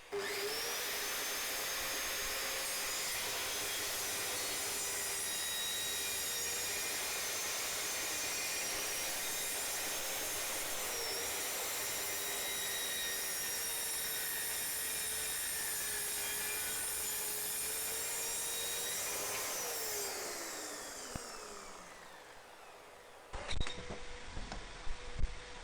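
A Parkside PTSS 1200 C2 plunge circular saw rips a straight cut through a wood board, a steady high motor whine with blade hum sustained for around twenty seconds before spinning down, with brief handling noise at the end.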